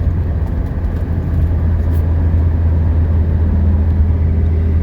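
A 1979 Mercedes 300SD diesel sedan accelerating normally on a test drive, heard from inside the cabin as a steady, loud low engine rumble and road drone with no voices.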